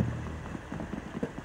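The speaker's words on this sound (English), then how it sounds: "What is that noise? Is that rain?" Rain patters steadily on a surface in Luigi's Mansion 3, a soft low drumming of close drops over a brief stretch.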